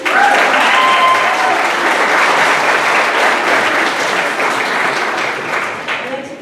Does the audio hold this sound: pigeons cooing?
no